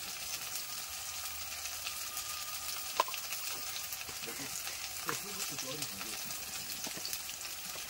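Cumin powder and turmeric fry in hot oil for a mutton curry, giving a steady, broadband sizzle, close and constant, with a few soft clinks and stirring scrapes.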